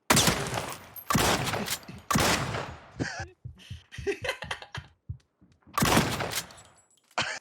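Video game gunfire rips out in several loud, rapid bursts separated by short pauses, with people talking and laughing in between.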